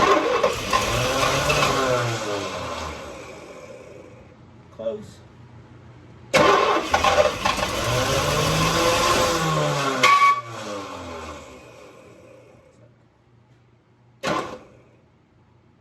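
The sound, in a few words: 1966 Toronado engine cranking and starting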